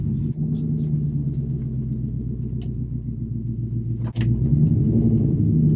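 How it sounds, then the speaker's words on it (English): A 1986 C10 pickup with an LS engine drives down the road, its low engine rumble steady from inside the cab, with small rattles and a brief clunk before the engine swells slightly. "Alright, let's take it for a drive. First drive down the road."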